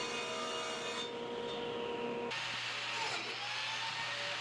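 White oak boards milled in a woodworking shop give a constant, loud machine drone with a steady hum, its tone shifting partway through as the cut changes, with no talking.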